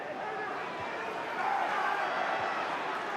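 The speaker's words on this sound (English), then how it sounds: "You can hear the crowd getting involved now." A stadium crowd at a 2007/08 Charlton Athletic v QPR football match makes a steady, dense roar and murmur that rises slightly midway and continues throughout.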